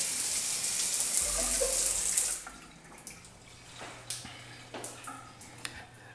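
A shower runs in a hotel spa suite bathroom at the MGM Grand in Las Vegas, a loud hiss of falling water that drops away after a couple of seconds, followed by quieter drips and small knocks in the room.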